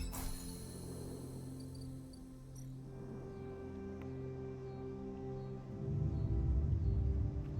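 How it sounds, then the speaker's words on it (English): Loud cicadas buzzing in the video game Citizen Sleeper, a steady shrill drone running continuously over a low ambient hum that swells near the end. "Wow, the cicadas out there are making a loud noise."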